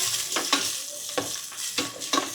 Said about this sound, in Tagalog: Gisa na po natin si bawang,